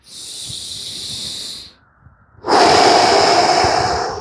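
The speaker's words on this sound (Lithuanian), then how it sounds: "delnais į save ir kvėpuojam per pilvą giliai" Slow, deep breathing up close: a long airy exhale, a brief pause, then a louder rushing breath that holds steady to the end.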